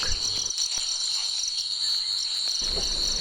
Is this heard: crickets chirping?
yes